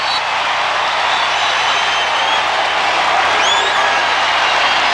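Stadium crowd noise at a Nebraska at Texas Tech college football game forms a loud, continuous roar of cheering and applause with no break, filling the whole stretch.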